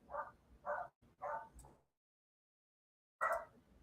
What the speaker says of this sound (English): Oh, now dogs want to bark.